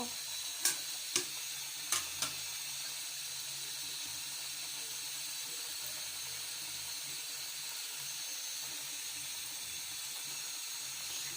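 Steady frying sizzle and hiss from a pan as rui fish pieces are laid in over spinach, with a few sharp clicks and clatters near the start and an even, continuous crackle throughout, no voices.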